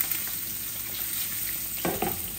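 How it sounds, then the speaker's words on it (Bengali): Fish rubbed with salt and turmeric goes into hot oil, setting off a steady, close sizzling hiss with a brief louder surge of crackle near the end. "মাছগুলা ঢেলে দেব"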